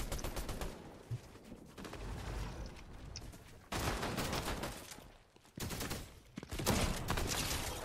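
Rapid bursts of automatic gunfire in Fortnite, loud and close, coming in long dense volleys separated by short lulls.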